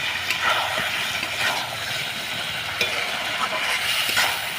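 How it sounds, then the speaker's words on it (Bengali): Chicken with cumin and coriander powders is stirred and fried in a pan, giving a continuous close sizzle with scraping stir strokes throughout. "এইভাবে ভালোভাবে মাংসটা কষিয়ে নেব বন্ধুরা।"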